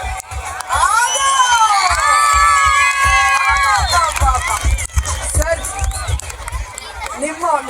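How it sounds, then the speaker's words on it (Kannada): An audience at a live musical night cheering and shouting loudly, with children's shrill cries and overlapping whistling voices forming a dense, continuous roar that dips briefly then keeps going. "ಸರ್ ನೋಡೋಣ ಎಷ್ಟು ಜನ ಚಪ್ಪಾಳೆ ತಟ್ತಾರೆ ಅಂತ ಒಂದ್ಸತಿ"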